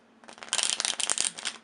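A deck of playing cards is riffle shuffled, a quick dense burst of flicking card edges lasting about a second, crisp and close, with no talk.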